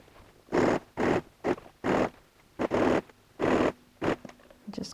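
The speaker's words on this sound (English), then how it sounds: "just going to put my zipper puller back so I can sew easily." A zipper puller is slid back and forth along the zip of a quilted cross-body messenger bag, making eight close, crisp rasping strokes in an uneven rhythm with short quiet gaps between.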